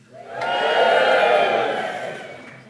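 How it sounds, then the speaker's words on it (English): Companies that support apprentices cheer from the audience at an apprenticeship awards dinner, a loud group whoop that rises fast, holds for about a second and a half, then tails off. "Give us a cheer if you're a company which supports apprentices."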